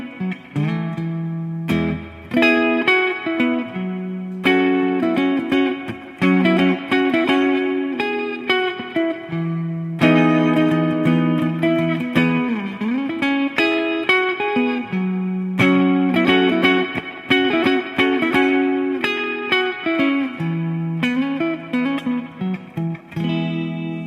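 Electric guitar with P90 pickups, made from recycled skateboards, playing chords and melodic lines with a warm, punchy tone and a short, bright reverb tail, steady and fairly loud with no talking.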